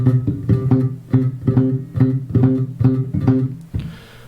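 Bass guitar playing a phrase from a bass solo, a rhythmic run of short plucked notes in repeating groups, close and clean, ending with a brief scrape.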